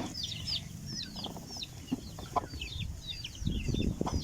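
Backyard chickens cluck and chirp repeatedly at close range while being fed honey-sweetened feed, with soft rustling and pecking beneath the calls.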